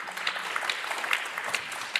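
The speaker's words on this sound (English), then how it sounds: "So maybe a round of applause for the true experts of tonight here." Audience clapping at an evening AI meetup in Helsinki, a steady patter of many hands at moderate distance throughout, with no talking.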